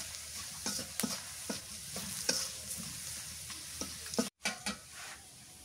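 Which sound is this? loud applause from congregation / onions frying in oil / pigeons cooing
onions frying in oil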